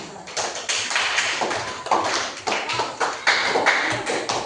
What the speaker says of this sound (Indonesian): Tepuk tangan untuk anak,